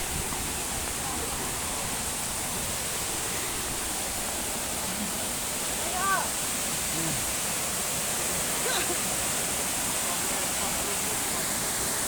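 Waterfall at Agoriani, Greece, a dense, steady rushing roar of water heard continuously, with faint voices and birdlike chirps briefly over it.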